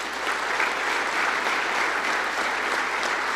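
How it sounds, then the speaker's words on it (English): A crowd at a college football awards banquet gives a steady, sustained round of applause for award winners, many hands clapping evenly from start to finish with no talk on top. "one last round of applause for our award winners here"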